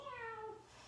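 A person voices a short, rising-then-falling imitation of a cat's meow while doing the cat-cow yoga pose on a chair or couch, a single clear call lasting under a second.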